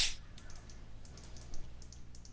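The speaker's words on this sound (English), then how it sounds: "I shouldn't have been typing, rather." Soft clicking of a computer keyboard during a League of Legends match, a quick scatter of light keystrokes, faint and close.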